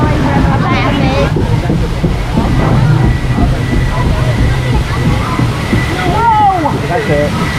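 Water rushing and sloshing loudly around a raft on a theme-park river rapids ride at Disney's Animal Kingdom, a constant close roar with splashing bursts, riders' voices and wind buffeting the microphone.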